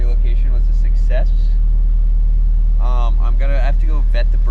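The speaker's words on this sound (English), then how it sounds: "The car is running, which is a good sign." A Nissan 240SX engine idles with a loud, steady low hum beneath someone talking intermittently nearby.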